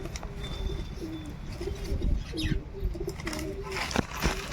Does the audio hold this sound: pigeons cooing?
yes